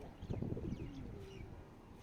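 Pigeons cooing softly in a backyard dove setup, where several males follow a single female; low, rounded calls repeat under light background noise, with a few faint higher chirps.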